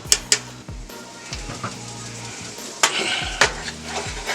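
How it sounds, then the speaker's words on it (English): Garlic sizzles softly in a pan with onions and butter while a utensil scrapes and clinks against the pan in a few sharp knocks, with no voices. "Alright, so the onions and butter are cooking away nicely. So now I'm going to add about 1 tablespoon of garlic to this."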